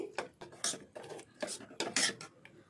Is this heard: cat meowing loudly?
no